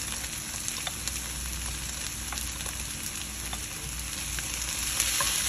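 Frozen spinach sizzling and frying steadily in a pan with garlic, a continuous close crackle with small pops and no talking.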